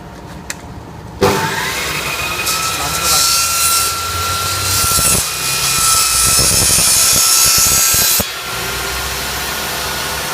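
A table saw fitted with a panel-cutting jig starts up loudly, whines steadily while cutting a 2 cm wooden board with a few bumps along the way, then cuts off abruptly; a voice is faintly present.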